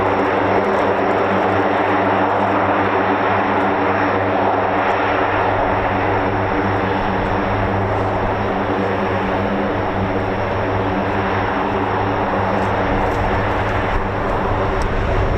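Military C-130 turboprop engines at RAF Mildenhall, a steady loud drone with strong low tonal hum from the propellers, continuous and unbroken throughout with no voices.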